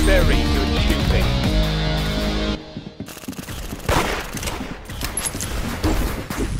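Rapid gunfire from the Roblox game Arsenal, played on mobile, bursts over loud game music, then continues as scattered shots and a fusillade once the music drops, with a voice talking throughout.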